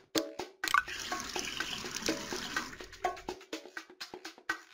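Water splashes and trickles from a pony's watering trough in a Dora the Explorer video game, an irregular run of bright drips and pours with short pauses, heard alone.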